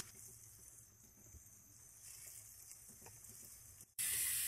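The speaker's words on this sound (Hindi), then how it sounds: "प्याज डालेंगे, प्याज को हम हल्का गोल्डन कर लेंगे।" Onions frying in a pan for Lahori chickpea curry, a soft steady sizzle and hiss at low level, ending in a sudden loud burst of sizzling near the end.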